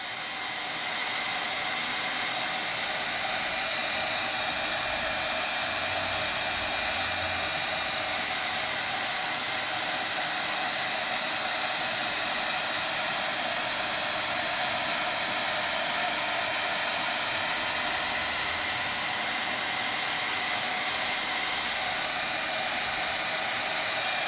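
A heat tool blows a steady, loud, continuous hiss-like roar while melting embossing glaze for a crafting project, unbroken and alone throughout.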